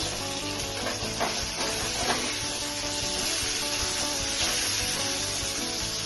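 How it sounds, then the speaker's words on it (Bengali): Pieces of rou fish sizzle steadily in hot oil in a home kitchen, a continuous close, crackling fry with occasional brief pops and faint stirring, no voices. "2 মিনিট ফ্রাই করবো, উল্টিয়ে নিয়েছি।"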